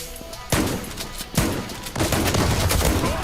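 Several loud, sharp shotgun blasts a second or so apart, followed by a sustained burst of rapid M4A1 rifle fire, with a processed, game-like sound from a video game match.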